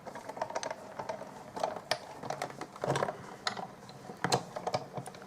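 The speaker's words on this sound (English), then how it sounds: "I'll just crank it through the big shot" A Big Shot die-cutting machine is cranked by hand, giving a series of irregular ratcheting clicks and clunks of gears and rollers, fairly quiet and close, with no talking.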